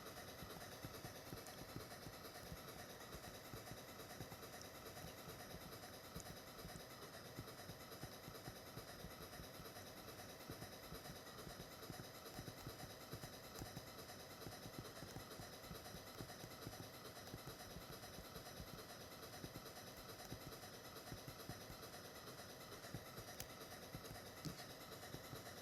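A train rolling steadily along rails in the off-road driving game Off Roading Epic, a continuous rumbling clatter with faint hiss that holds at an even level with no talk.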